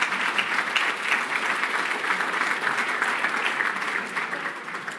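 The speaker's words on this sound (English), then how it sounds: "let's give him a round of applause as well" At a 2024 FAIR awards ceremony, an audience gives a steady round of applause for a community honoree, a dense, even patter of many hands that stays level for five seconds before easing slightly.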